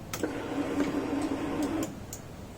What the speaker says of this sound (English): Turn the ignition.